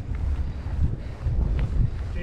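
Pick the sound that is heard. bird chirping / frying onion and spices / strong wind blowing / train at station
strong wind blowing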